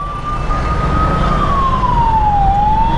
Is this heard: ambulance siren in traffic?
yes